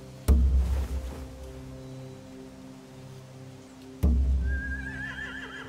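Horses neigh in The Walking Dead video game, with two loud whinnies about four seconds apart, the second ending in a high, wavering call. No one speaks.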